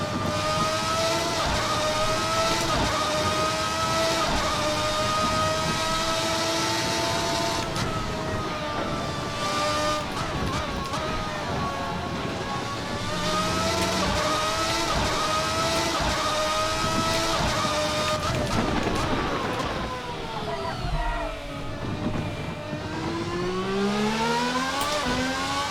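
A V12 race car from the RSS V12 mod in Assetto Corsa accelerates hard, its engine note climbing steadily through rising revs with brief drops at gear changes, loud and continuous throughout.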